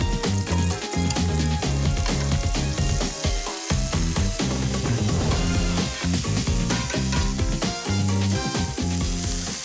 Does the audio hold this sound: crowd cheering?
no